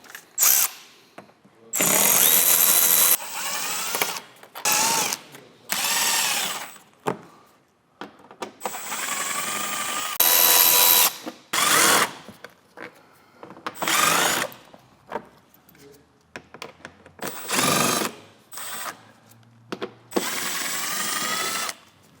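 A power driver whirs in repeated short bursts while removing 7mm and T15 screws from the diffuser of a 2014-2019 C7 Corvette Stingray, with stops and starts between screws and quiet handling noises in the gaps.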